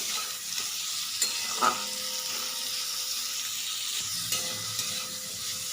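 Chopped onions with tomato and a pinch of salt stirred in a hot pan, a continuous soft sizzle with intermittent scrapes and clinks of the spoon, fairly quiet.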